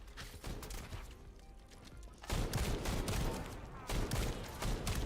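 A light machine gun fires in a video game in long sustained bursts of rapid gunfire, loud and dense, with a brief lull before the firing resumes at full strength.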